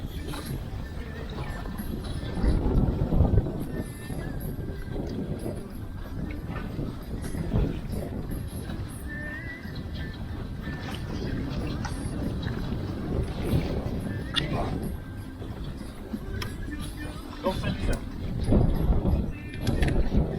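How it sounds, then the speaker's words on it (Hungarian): Steady, heavy wind buffets the microphone on Lake Balaton throughout, a constant low roar with louder gusts and no clear speech. "Eléggé durva a szél most."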